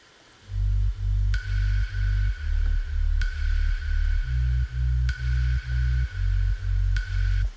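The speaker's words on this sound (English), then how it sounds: "it's cashmere, this background pluck, which just goes on the offbeat" A cashmere synth pluck sits in the background of a remix, striking on every offbeat over a steady pulsing low bass pattern, with sharp bright clicks landing about every two seconds.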